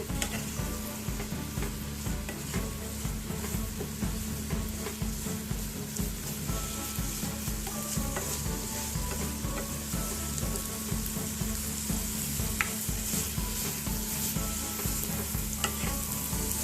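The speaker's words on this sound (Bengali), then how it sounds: "এবার আমি আরেকটু ফ্লেমটা হাই করে আরেকটু কষাবো" Paneer gravy for kadai paneer, sautéed on high flame until oil separates, bubbles and sizzles steadily, while a spoon stirs and scrapes the pan again and again, close up and without talk.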